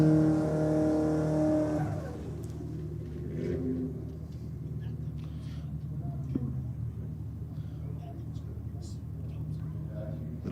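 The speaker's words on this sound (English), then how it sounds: "Little Dado Ute down there going through the burnout procedure" A ute at Sydney Dragway on race night goes through its burnout, a steady engine roar and rumble that holds loud at first and then settles into a lower, continuous drone, with a voice talking over it.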